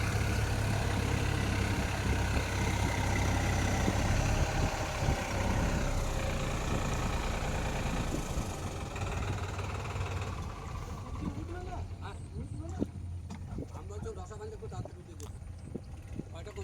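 Swaraj 4x4 tractor engine idling as it backs up in a rough field, a steady low rumble close by, with voices talking over it and the engine note thinning toward the end.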